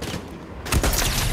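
A sharp, booming gunshot from a sniper rifle in the Fortnite video game, a single loud crack partway through, followed by a ringing tail and game background noise.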